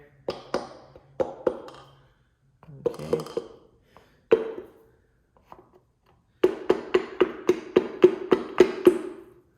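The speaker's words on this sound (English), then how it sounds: "now use the back of my hammer to tap this off here" Sharp metallic taps in short bursts as the back of a hammer knocks a part off a Toyota 16-valve 4A-GE engine during teardown, then a rapid run of evenly spaced strikes; a brief spoken word in between.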